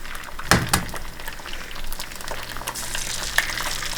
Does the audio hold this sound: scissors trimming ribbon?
no